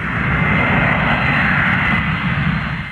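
Airplane engine at an airport as a flight prepares to depart, a loud steady roaring hum with a broad midrange whine, continuous and unchanging throughout.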